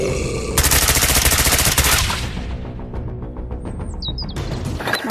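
A toy gun fires a rapid, loud burst of electronic shots, then trails off into sputtering pops and a few high electronic chirps.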